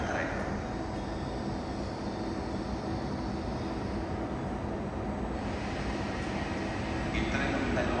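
Train at Roma Termini railway station in Rome, a steady broad rumble of rolling stock filling the station hall at moderate distance, continuous throughout.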